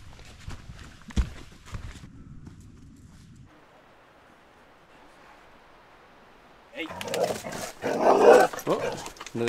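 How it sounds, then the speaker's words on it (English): On a hiking trail in Cloudland Canyon State Park, dogs bark in short bursts, first faint, then loud and close near the end, mixed with footsteps, rustling and a few spoken voices. "We found two dogs."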